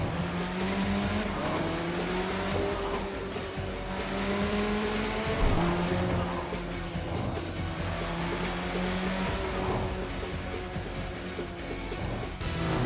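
A car engine revs and climbs through the gears in the Tokyo Xtreme Racer video game, with steady rising pitch sweeps and shifts, loud and continuous throughout, with a brief tire squeal midway.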